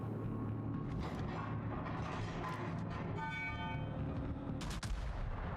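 Naval gunfire booming in a World of Warships battle: a continuous, loud rumble of heavy shell fire and explosions with a dense low roar throughout, and a sharp burst near the end.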